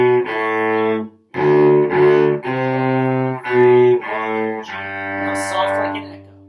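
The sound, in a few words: cello playing Long, Long Ago section B, loud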